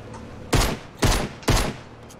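Three loud, evenly spaced gunshots ring out about half a second apart during a 50v50 Fortnite match, each a sharp broadband blast with a short decaying tail, no voices over them.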